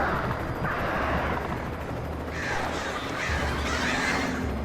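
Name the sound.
crows cawing in the video game Alan Wake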